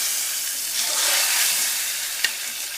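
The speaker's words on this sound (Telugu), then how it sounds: "ఈ పోపుని మనం ముందుగా ఉడికించి పెట్టుకున్న రసంలో వేసుకుందాం." Hot tempering with asafoetida poured into tomato rasam erupts into a loud, hissing sizzle that swells and then settles, with a single sharp click near the end, no talk.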